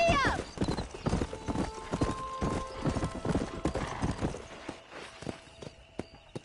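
Horse hooves clip-clop in a quick galloping rhythm while riding in the Red Dead Redemption video game, loud and close with steady repeated beats, a brief whinny near the start and voices talking over the ride.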